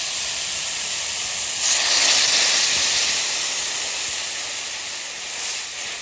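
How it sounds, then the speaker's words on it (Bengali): Water poured into a hot pan of spiced taro stolons (kochur loti) sets off a loud, steady steaming hiss that swells briefly then settles into a continuous close sizzle. "এবার একটু জল দিয়ে দেবো।"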